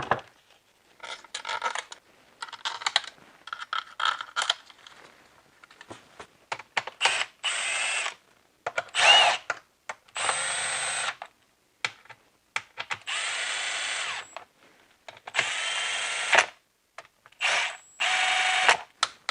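Torque wrench tightening the mechatronics unit bolts on a ZF 6HP19 automatic transmission from an E90 BMW 335i, heard as repeated bursts of ratcheting clicks in short runs separated by pauses, close and fairly loud, with no talking.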